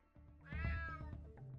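A cat in the video game UnMetal lets out a single loud, drawn-out meow near the listener, standing alone with no speech around it.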